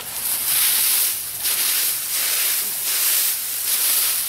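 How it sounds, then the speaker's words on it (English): Gas-powered leaf blower running nearby during lawn care, a loud steady airy hiss that swells and eases in repeated waves roughly every second. "I do need my blower for this."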